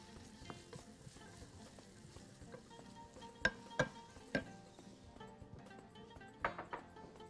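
Onions fry in oil in a pot as the base for liver with tomatoes, giving a faint, steady sizzle broken by several sharp metallic clinks and taps of a utensil against the pan.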